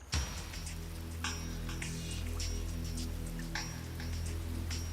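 Rain falls in the Linyanti swamps of Botswana during the rainy season, a steady close patter with scattered louder drops over a low constant background.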